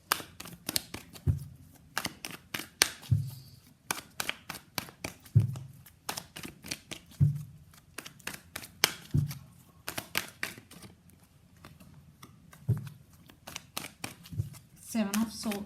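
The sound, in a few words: shuffling tarot cards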